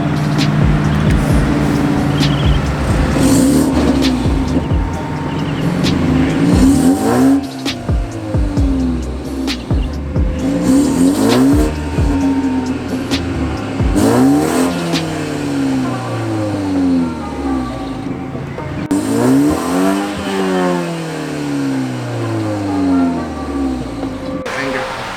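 A car with a stock exhaust revs repeatedly, each rise and fall in pitch coming in waves over a steady low idle, loud and close throughout.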